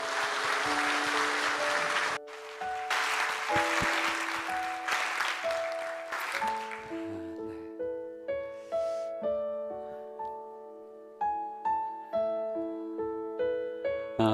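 A church congregation at a Christmas Day worship service claps loudly and steadily for about six seconds, then the clapping fades as keyboard or piano chords play on alone.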